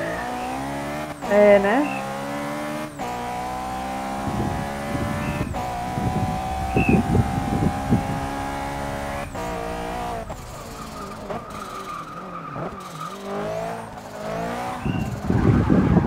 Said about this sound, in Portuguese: O barulho desse carro é tão bonito. É a Ferrari, filho.